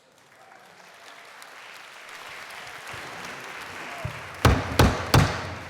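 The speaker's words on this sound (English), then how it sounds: "Clapping is not in order." Applause from delegates at a model UN opening ceremony, starting as a soft, growing patter of many hands, then ending with three loud, sharp gavel-like thumps close by.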